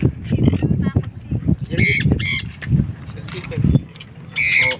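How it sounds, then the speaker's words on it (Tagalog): Birds honk and squawk in short bursts, with people chatting and laughing nearby throughout. "Yan ang mga ibon."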